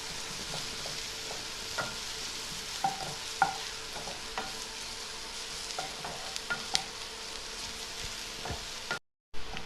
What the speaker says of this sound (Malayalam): നമ്മുടെ ചെറുള്ളി നല്ലതുപോലെ ഗോൾഡൻ കളറായിട്ട് സോട്ട് ചെയ്തെടുത്തിട്ടുണ്ട്